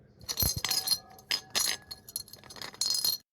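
An unprocessed glass bowl is struck several times with bright, ringing clinks, irregular taps with short resonant tails, close and clear with no voices.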